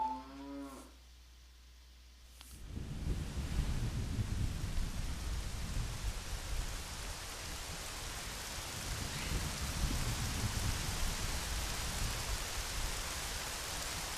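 Steady rain falls in the video game Majora's Mask, a dense continuous hiss with low rumbling underneath, starting abruptly after a brief musical tone and continuing evenly to the end.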